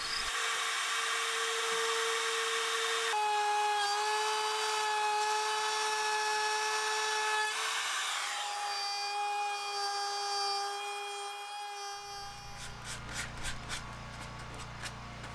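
Close, continuous rasping of a tool cutting a drip groove into a wooden roof rafter, with a high tonal whine that shifts pitch several times before ending in a rougher scraping finish.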